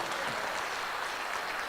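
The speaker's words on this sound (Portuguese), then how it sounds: "Aplauda este Senhor da glória." A church congregation applauds during a sermon, a steady, fairly faint wash of many hands clapping that continues through the whole short stretch without a break.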